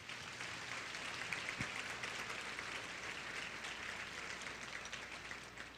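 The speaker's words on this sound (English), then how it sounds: "I think that deserves a big round of applause." A luncheon audience gives a big round of applause, a soft, distant and evenly sustained patter of many hands that stays faint for about six seconds.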